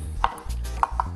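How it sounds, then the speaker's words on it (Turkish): Knife chopping peeled tomatoes on a cutting board for menemen, three distinct close chops at uneven spacing with no talking. "Bu arada domateslerimizi de doğrayabiliriz."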